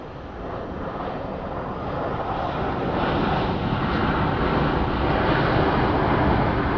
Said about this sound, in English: Not a bad landing.